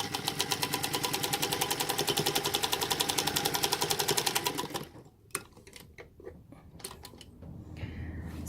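A sewing machine stitches a quilt block seam in a fast, steady, even rhythm for several seconds, then stops, leaving quiet handling clicks and faint shuffling.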